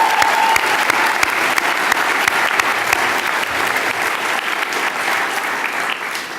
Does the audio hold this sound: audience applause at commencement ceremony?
yes